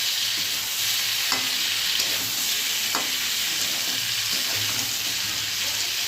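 Pumpkin, potato and pointed gourd curry sizzles steadily in a pan, a continuous frying hiss with occasional stirring clinks, close and moderately loud with no talk.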